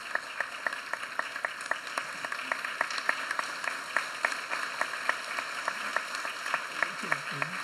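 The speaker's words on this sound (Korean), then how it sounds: "기왕이면 앞으로 이렇게 나오시면 박수 한번 쳐드리면 좋겠어요" A church congregation at a Sunday worship service at Songtan Central Baptist Church claps in unison, a steady, evenly spaced beat of sharp claps continuing throughout at moderate volume over a soft room background.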